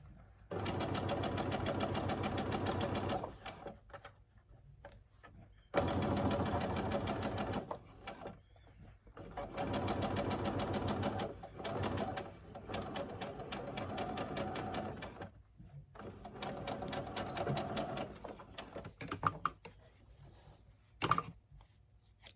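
A sewing machine stitches an 18-inch doll dress in about five close, rapid bursts of whirring needle chatter, each lasting a few seconds and separated by short pauses, with no speech.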